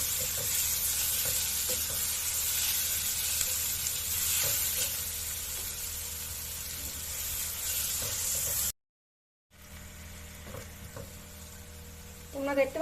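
Onions sizzling in hot oil with cumin and chillies while being stirred in a pan, a continuous close frying hiss with occasional scraping knocks, a brief cut to silence, then the sizzle resumes.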